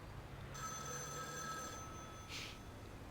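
Telephone rings in the detective game Case Closed, a steady electronic trill holding about two seconds over a low background hum, followed by a short brighter burst.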